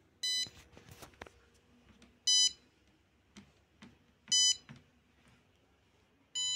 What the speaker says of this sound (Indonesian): Dan suara buzzer juga itu dia mulai bunyi tapi ya masih dalam frekuensi yang kecil.